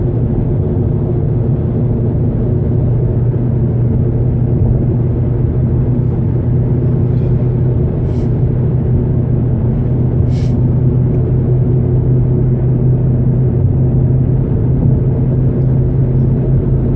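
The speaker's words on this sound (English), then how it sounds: "Heavy traffic today." Heavy road traffic passing on a busy road, a steady dense low rumble that fills the whole stretch without break, loud and close, with no talk over it.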